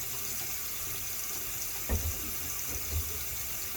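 Tap water running steadily over an African violet plant being rinsed in a sink, a constant close hiss of flowing water with a couple of brief louder splashes or knocks.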